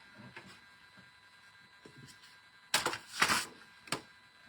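Sheet of cardstock for a Christmas ornament card being cut to size: a few short crisp swipes and rustles, loudest in two bursts near the end, then a brief snap, with quiet room tone between and no talking.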